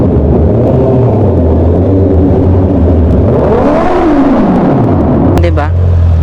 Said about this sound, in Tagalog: Merong garalgal, parang may plema, tulad nga ng sinasabi ng iba.